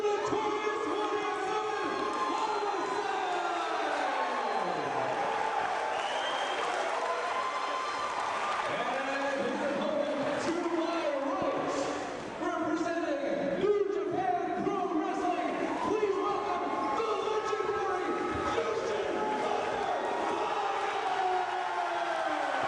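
A packed wrestling crowd at a Jersey All-Pro show roars, cheers and whoops continuously for Jushin Liger's entrance, a loud, dense wall of voices that stays up for the whole stretch with scattered shouts rising above it.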